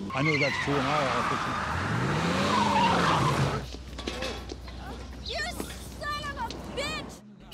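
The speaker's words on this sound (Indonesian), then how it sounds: "Begitu perintah diterima, Jimmy segera tancap gas" A car from a Better Call Saul episode speeds off with a loud, rising tire squeal over engine noise. It then fades into quieter scene sounds and indistinct voices.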